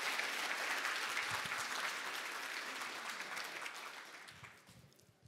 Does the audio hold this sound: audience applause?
yes